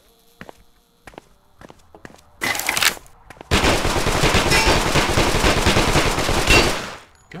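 Sustained automatic machine gun fire in the video game Stalin Subway Red Veil, a loud dense burst running several seconds after scattered footsteps and a short earlier volley, with no talk over it.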